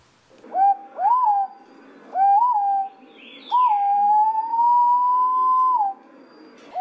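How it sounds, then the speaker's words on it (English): Green pigeon calling to its partner, a series of loud, clear whistled hoots that rise and level off, ending in one long drawn-out whistle, close and alone. "there's a type of bird called the green pigeon."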